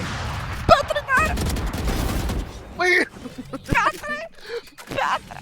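Rapid gunfire bursts and single shots from the tactical shooter game Valorant, sharp cracks scattered across the stretch while players talk excitedly over the shooting.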